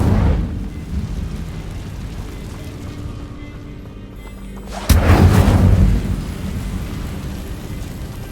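Incendio fire spell cast in Hogwarts Legacy, a sudden crackling blast that bursts in loud and then roars for about a second before easing into a low rumble over a storm-like ambient background.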